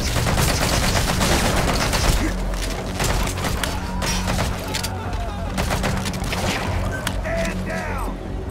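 Dense bursts of gunfire in Metal Gear Solid V, rapid shots and heavy impacts crowding together continuously at close range, with a voice shouting in the game.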